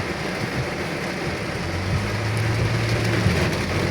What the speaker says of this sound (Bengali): আর কি পরিমাণ বৃষ্টি